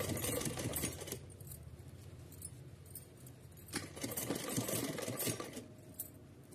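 A sewing machine hems a small Laddu Gopal doll dress, with the fabric folded over a drawstring cord. Two short bursts of close, rattling stitching are separated by a quieter gap with light clinking.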